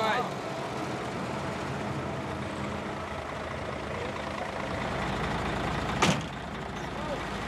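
A heavy truck labours through soft desert sand in Brazil, its engine a steady low rumble throughout with a sharp hiss or clank near the end, and voices heard faintly.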